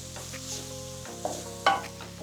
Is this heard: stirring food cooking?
yes